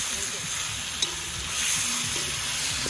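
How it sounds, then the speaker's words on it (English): Curry sizzling and frying while stirred over an open fire at a bush cook by a lake in Guyana: a steady, loud, close hiss that fills the whole clip, with a faint stir scrape. "mix up the curry"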